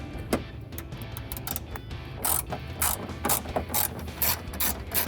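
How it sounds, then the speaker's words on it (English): A 10mm socket ratchet undoes headlight bolts on a 2004-2008 Ford F-150, giving close, rapid metallic clicking in quick bursts with short pauses between strokes. "now I have my 10mm socket, and we're just going to do the 3 bolts"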